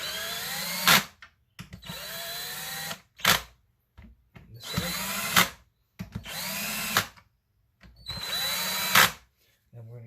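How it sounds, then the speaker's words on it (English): A power tool with a torque socket drives bolts into a front-wheel-drive manual transmission, sounding as five loud, close whirring bursts of one to two seconds each, split by short silences. "we want to grab our torque socket, which is right here. Drive these in"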